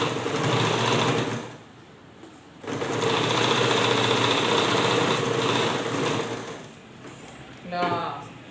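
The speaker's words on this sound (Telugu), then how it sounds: "ఇలా లాక్ స్టిచ్ వేసేసుకొని" Sewing machine running a lock stitch on a frock, a close, loud, steady whir in two long runs separated by a short pause, easing off near the end as a voice speaks briefly.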